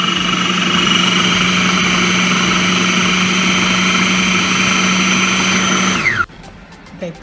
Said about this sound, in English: I'm gonna toss this up and start whipping up my cream cheese,